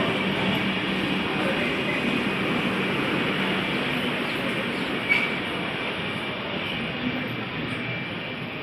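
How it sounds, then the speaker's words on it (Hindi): The Shramjivi Express clone train rolls past at close range, giving a steady, loud rumble with faint wheel clatter and squeal throughout and a brief clank near the middle. "गाइस हमारी ट्रेन श्रमजीवी की क्लोन ट्रेन गुज़र रही है।"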